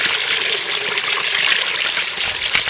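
Spring water trickling and splashing at Beverage in the desert below Inyo Face, a steady close bright hiss with no voices.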